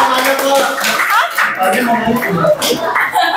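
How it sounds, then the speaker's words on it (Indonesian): An audience at a basic science lecture class claps together, a brisk, moderately close patter of many hands with light laughter and voices mixed in throughout. "Tepuk tangan buat kita semua."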